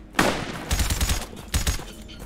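Gunfire in the video game The Decaying Winter, rapid bursts of shots rattling out in two quick volleys, loud and close with no talking.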